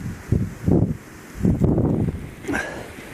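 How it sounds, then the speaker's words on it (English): Wind in a snowstorm buffets the microphone in uneven gusts, with several short rushing bursts over a soft background hiss, close and moderately loud. "The wind's blowing."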